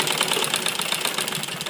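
A sewing machine running steadily as it stitches a men's kurta, a close, even rapid whirring and clatter with no pauses and no voices.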